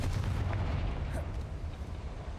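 A Confringo blasting spell exploding in the Hogwarts Legacy video game, a heavy booming blast with a rumbling low tail that rolls on and slowly thins out, no voices over it.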